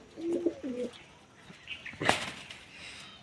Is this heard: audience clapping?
no